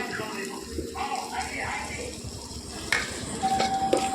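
Sprouted legumes fry and get stirred in hot tempering oil for a sambar, a steady crackling sizzle with scraping stirs and a sharp clink of a pan near the end, with talk over it.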